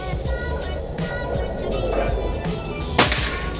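A single sharp crack from a PCP air rifle charged with air at 2000 PSI, one quick near shot over a murmur of background noise.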